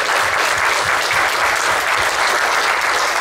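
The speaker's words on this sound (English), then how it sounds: "let's give them a round of applause" Audience applause at a county commissioners' town hall meeting on parks and recreation, a steady, dense wash of clapping from a crowd that holds at an even level for the whole stretch.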